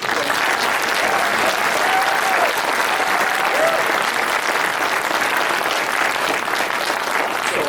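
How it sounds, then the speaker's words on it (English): An audience at a documentary screening event gives a loud, full round of applause, dense and even throughout, with a few faint cheering voices riding on top. "A big round of applause."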